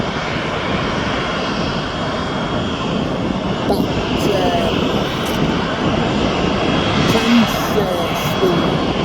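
A Cessna Citation business jet taxis on an active runway and turns around, its engine a steady broadband roar that holds fairly loud throughout, with faint talk beneath it.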